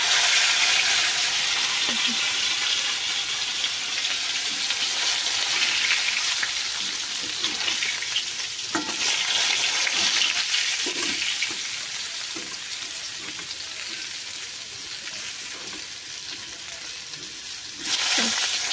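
Small hilsa fish fry in a pan with a steady, loud, hissing sizzle that runs the whole time, broken by occasional clinks and scrapes of a utensil being stirred and lifted.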